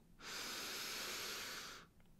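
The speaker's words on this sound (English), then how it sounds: "Nice big inhale into your belly." One long, deep inhale into the belly during a guided breathing exercise, a steady airy rush close to the microphone lasting under two seconds, rising and fading smoothly against quiet surroundings.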